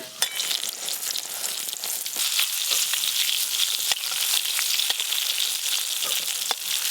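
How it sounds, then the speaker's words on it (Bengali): Potatoes frying in a pan for aloo dum, a steady close sizzle with crackling pops throughout and no talking. "চাপা খুলে একবার আলুগুলো ভালো করে নেড়ে নেব"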